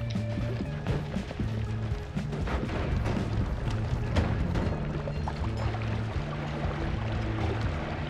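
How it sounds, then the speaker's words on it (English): Explosions in the video game Noita rumble and crack repeatedly, with sharp bursts over a steady low droning score. "That's a revenge explosion working against us."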